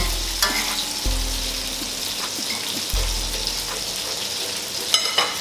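Meatballs fry and caramelize with sugar in a pan, sizzling steadily up close, with a couple of dull thumps as they are moved and light scraping toward the end.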